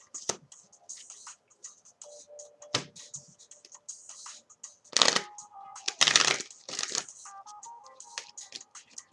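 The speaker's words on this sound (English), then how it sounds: "I already pre-shuffled before I recorded, so I just like to do it one more time just so you guys can see" Tarot cards shuffled by hand close up, a run of soft papery riffles and taps with a few louder bursts of card flicking, no talk.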